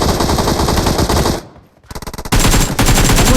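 Automatic rifle fire in the mobile battle royale game BGMI, loud sustained bursts of rapid shots, a short near-silent gap, then choppy shots and another dense burst, with no talk.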